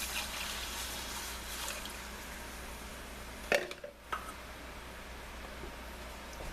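Water and fish stock pour into a pot of garlic cod and pasta soup as a soft, fading splash and hiss, followed by a brief clank of the pot before things go quiet.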